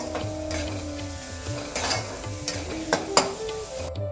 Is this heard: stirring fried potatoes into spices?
yes